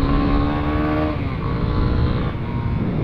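Yamaha Fazer 250 motorcycle on its stock exhaust, engine running steadily with a rev that rises and eases back, close and loud with no talking.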